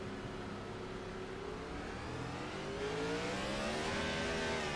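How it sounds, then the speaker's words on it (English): A race car engine in a racing video game holds high revs against the rev limiter, stuck in first gear after a missed shift; a steady loud drone with rising and wavering harmonics runs throughout. "That car pinged off the limiter and stayed there."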